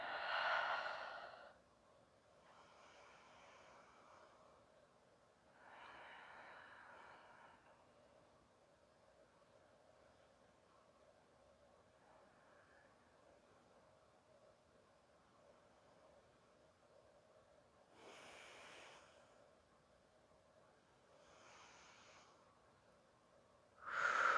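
Deep breaths drawn in and let out slowly during a yoga stretch, a few soft airy swells spaced several seconds apart, close and quiet with near silence between them.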